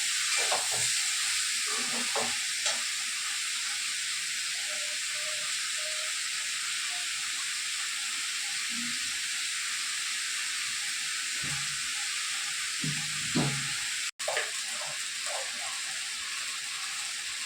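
Pieces of ash gourd fry in a pan with a steady broad sizzle and hiss, close and constant, with occasional light stirring clicks and a brief cutout partway through.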